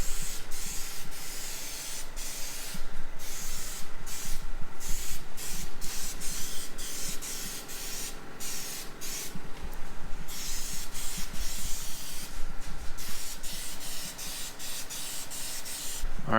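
Spray paint hissing onto a Honda CR-V RD1 car grille on a cool night: a loud, steady aerosol hiss in long passes broken by brief pauses, with no voices.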